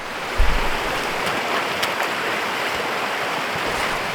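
A river flows steadily while someone walks along its bank looking for a place to cross. The water makes a continuous broadband rush, fairly close, and a brief low thump comes near the start.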